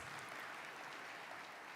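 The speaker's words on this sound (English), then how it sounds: "Another round of applause for Ghetto Kids" Soft, distant applause from an audience for the Ghetto Kids at a Kenyan diplomatic anniversary celebration, a low continuous patter of many hands.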